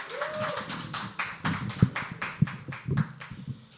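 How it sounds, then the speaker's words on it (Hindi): An audience at a poetry open mic claps to welcome a poet, a close, steady patter of hand claps that carries on evenly throughout. "एक बार जोरदार तालियों के साथ दीपक का स्वागत करेंगे दोस्तों"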